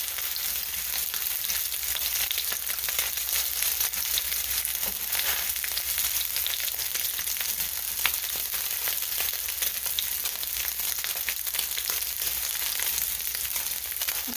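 Wild caught tuna searing in a hot pan, a continuous loud sizzle with crackling spatter pops, steady from start to finish and no talking.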